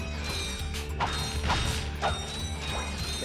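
Rapid mechanical rattling and clanking bursts from a Gatling gun in the Ratchet & Clank video game, several uneven whirring bursts over a low steady hum, fairly close, with no talk.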